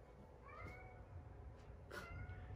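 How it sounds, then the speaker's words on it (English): A cat meows twice, a drawn-out cry followed by a second one, muffled and quiet as if behind a door, over low background hum. "I have had a kitty cat outside of my studio door here that has pretty much been meowing the entire time"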